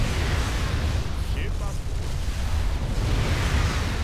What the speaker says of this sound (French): Tac, et on va péter le vaisseau mère les amis, c'est parti. Canon Yamato.